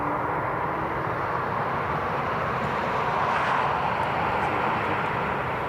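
An aircraft on ILS approach to Newcastle International Airport gives a steady, broad engine roar that holds evenly and fairly loud throughout, with no voices.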